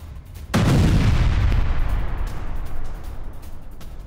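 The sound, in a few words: explosion destroying an IDF Merkava tank, news footage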